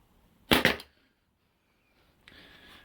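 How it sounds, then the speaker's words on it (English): A single sharp pneumatic nail gun shot fires close and loud, followed by a pause and then a faint hiss of air from a compressor. "What is going on with my nail gun? It doesn't seem to be working."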